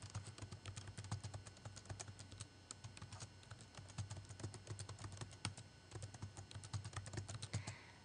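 Fast, irregular clicking of keys on a computer keyboard, close and fairly quiet, with steady taps continuing throughout and no voices.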